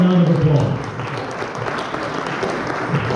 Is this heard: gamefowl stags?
no